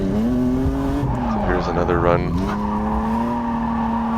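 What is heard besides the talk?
car drifting with tire squeal on track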